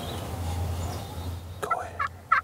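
Wild Kansas longbeard turkey gobbling in the field, three short rattling gobbles in the second half, the last loudest, over a low rumbling outdoor background.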